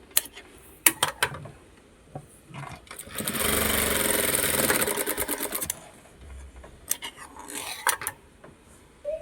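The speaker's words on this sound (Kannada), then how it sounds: "ಭುಜದ ಮ್ಯಾಗ ಸ್ಟಿಚ್ ಹಾಕೊಳತ್ತನ ರೀ ಮುಂಭಾಗ ಜಾಯಿಂಟ್ ಮಾಡ್ಕೊಳತ್ತೇನೆ" A sewing machine stitches a blouse at the shoulder and front joint seams. It starts with several short, sharp bursts, then runs steadily for about three seconds, then stops. A few more brief clattering runs follow, close and loud, with no talking.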